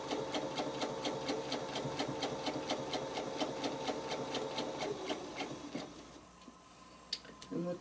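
A sewing machine stitches out lines on a spider web quilting project, a loud, fast, even mechanical whirring of close needle strokes that runs steadily for several seconds before stopping, followed by a few quieter clicks and handling sounds.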